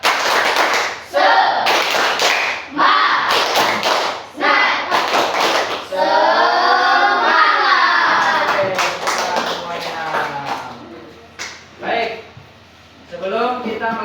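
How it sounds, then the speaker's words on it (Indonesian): A classroom of students performs a rhythmic spirit clap, loud sharp claps in patterned bursts alternating with group chanting and a teacher's voice, the clapping close and dominant in the first half. "Tepuk semangat."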